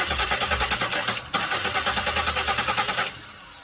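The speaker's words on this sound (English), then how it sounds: "I saw the engine trying to do something" A 2001 Pontiac Aztek with the 3.4 engine cranks without catching, its starter churning in a fast, even rhythm of repeated pulses before slowing and dropping off near the end.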